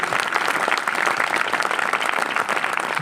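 Congregation applauding in church, dense steady clapping from many hands filling the room throughout, loud and close.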